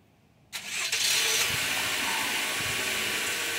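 A 2020 Toyota RAV4 engine fires up by remote starter: a short cranking burst, then a steady, fairly loud idle with a broad hiss that continues to the end.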